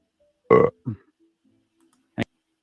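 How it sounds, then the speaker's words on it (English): A man lets out a short, loud, guttural burp, followed by a smaller second belch and a brief sharp sound a moment later, with no talk. "Why did he burp like that"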